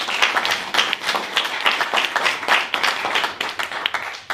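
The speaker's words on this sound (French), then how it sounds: "je voudrais qu'on t'applaudisse parce que tu es génial" Conference audience at the Mondial du Rhum 2024 applauds a speaker with lively, uneven clapping that swells and fades in bursts, fairly close and without talk.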